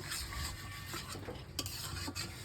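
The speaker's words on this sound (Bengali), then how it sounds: "এইবার সুন্দর করে মাংসটাকে কষি আমরা" Chicken pieces stir-fried in oil for Bengali kosha, a spatula scraping and stirring against the pan in repeated strokes over a steady close sizzle, with faint metallic clinks; no voices.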